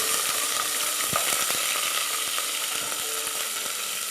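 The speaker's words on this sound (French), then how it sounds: "je vais ressoler la viande ici" Meat searing in a hot pan, a steady broadband sizzle throughout with a few sharp clicks and scrapes from turning the pieces, close and fairly loud with no talking.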